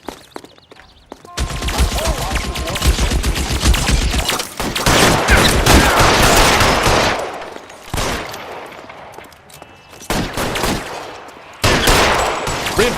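Sustained bursts of automatic gunfire in the video game L.A. Noire, loud and dense with rapid overlapping shots, broken by brief pauses before volleys resume.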